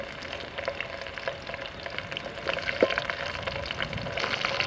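Green chillies frying in hot oil with ginger and garlic for a sardine fish curry, a steady close sizzle and crackle with a few stirring scrapes and no talking.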